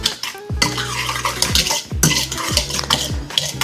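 A utensil briskly stirs lemon bar filling with zest in a bowl, producing rhythmic scraping and clinking strokes, loud and close, with no voices.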